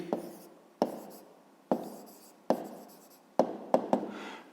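A pen writes a maths answer by hand on paper, sharp taps and brief scratches recurring about every second, close and isolated, with a quick cluster of strokes near the end.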